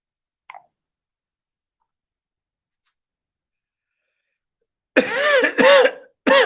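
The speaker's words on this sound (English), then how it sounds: "Excuse me, I had to cough." Three loud, sharp coughs come close together near the end, after a long stretch of silence broken by one tiny click.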